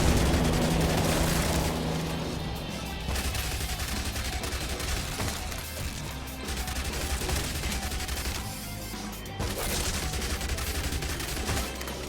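Sustained SMG fire in a video game rattles on almost without pause, loud rapid shots layered with booms and blasts, dipping briefly before resuming at full intensity.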